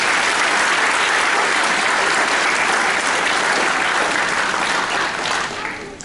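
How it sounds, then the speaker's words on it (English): Sustained, dense applause from a concert audience at a sixth-grade school band concert, honoring the clarinet section; loud and steady throughout, tapering off slightly at the very end. "So let's give it a round of applause for the clarinet."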